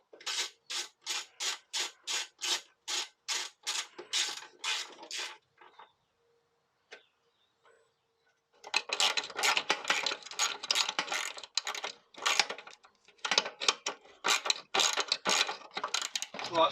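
Ratchet spinning two 10mm bolts back in on a Yamaha FZR 600 motorcycle: rapid, close clicking bursts in an even rhythm, a pause with a few faint knocks, then more irregular ratcheting strokes, with no talk.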